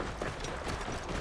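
Soft, brief hoof clip-clops of a horse in Assassin's Creed Origins, faint and quick, with no voice over them.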